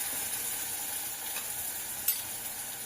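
Paneer masala gravy with ground spice paste sautéing in a pan, giving a soft, steady close sizzle with faint stirring, one brief sharper clink near the end, no voices.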